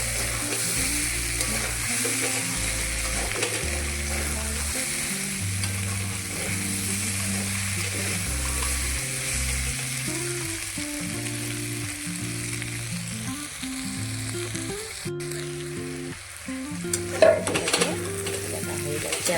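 Oil sizzles steadily in a pan as food fries and is stirred, a continuous close crackle with occasional soft scrapes and a brief clatter near the end, no voices.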